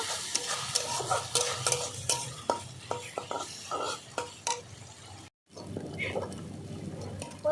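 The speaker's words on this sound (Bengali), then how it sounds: "পেঁয়াজ রসুন ভালো করে কষিয়ে নিলাম একটু এবার দিয়ে দেবো আদা বাটা অল্প করে কাঁচা লঙ্কা বাটা ভালো করে আরেকটু কষিয়ে নেব" Onion, garlic, ginger paste and green chilli paste sautéing in a pan, a busy sizzle with rapid scraping stirs and utensil clinks close up, a brief dropout, then frying resumes under faint voices.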